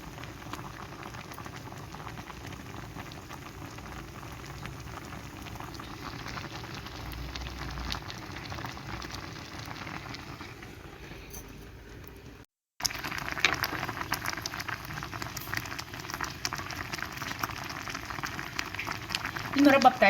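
Orange jam simmering in a cooking pot, a steady soft bubbling and popping that runs continuously, briefly cutting out before resuming slightly louder, with faint background voices.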